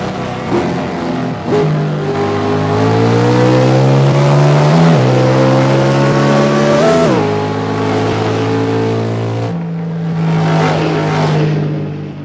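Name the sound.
car engine revving, clutch slipping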